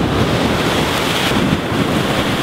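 Ocean waves crash on the shore, a loud continuous roar of surf mixed with heavy wind buffeting the microphone, close and unbroken throughout.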